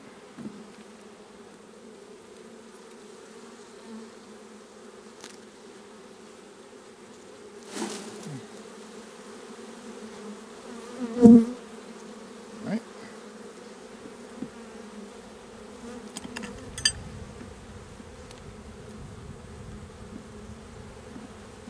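A low, steady hum of buzzing honey bees runs quietly throughout, broken by a few sharp clicks and knocks close by.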